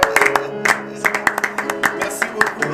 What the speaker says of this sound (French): Est-ce qu'on peut accompagner cela par les acclamations quand même?